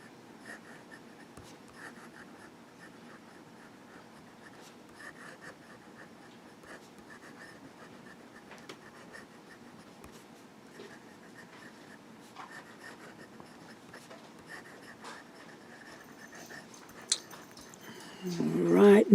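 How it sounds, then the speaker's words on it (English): A Diplomat Aero fountain pen with a smooth, wet nib scratches softly across paper in faint, intermittent strokes. A louder rustle comes near the end. "And let's do some writing."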